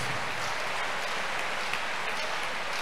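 A congregation claps at a church crusade testimony service, dense continuous applause filling the space evenly from start to finish with no voices rising above it.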